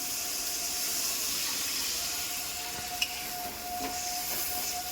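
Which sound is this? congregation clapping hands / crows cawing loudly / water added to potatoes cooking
water added to potatoes cooking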